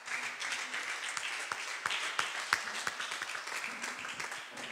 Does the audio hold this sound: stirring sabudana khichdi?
no